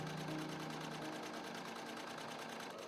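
A sewing machine stitches the sleeves and side seams of a homemade fleece onesie, running steadily with a fast, even mechanical chatter from start to finish.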